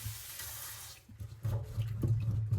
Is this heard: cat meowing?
no